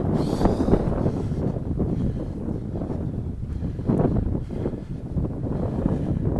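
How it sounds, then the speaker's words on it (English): Strong wind blows across an open street after a blizzard, roaring steadily and buffeting the microphone in continuous low gusts with no voices. "Get some shelter from the wind."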